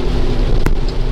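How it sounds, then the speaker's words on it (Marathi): Heavy rain beats on a car driving along the Mumbai–Pune Expressway: a dense, steady roar of water and road noise, with one brief sharper burst of spray in the middle. "आणि आता फुल पावसाने जोर धरलेला आहे."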